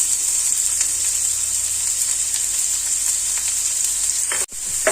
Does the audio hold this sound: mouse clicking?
no